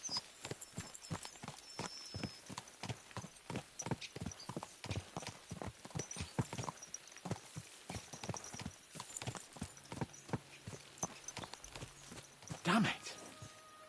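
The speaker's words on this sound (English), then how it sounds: "Let's really spur these horses on, eh?" Horses clip-clopping at a steady walking rhythm in Kingdom Come: Deliverance II, a continuous series of close, crisp hoof strikes with a brief snort or whinny near the end, and a voice talking over them.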